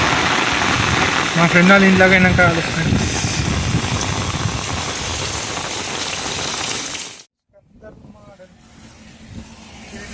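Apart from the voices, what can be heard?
heavy monsoon rain falling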